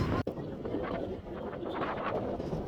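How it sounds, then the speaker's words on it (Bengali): Strong wind gusts across a riverside near the Gorai bridge on a late afternoon, a steady, full rushing roar buffeting the microphone, with one brief dropout near the start. "অনেক বাতাস বইতেছিল"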